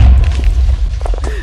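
A bomb goes off in the Minecraft video game, a single low, heavy boom that rumbles through the clip, with faint game sounds and brief voices scattered over it.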